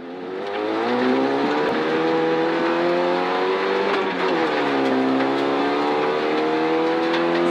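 Rally car at full throttle launching off the start of a special stage in the Novemberskölden rally, engine roaring loud and close, climbing and dropping in pitch through quick gear changes, with no talk over it.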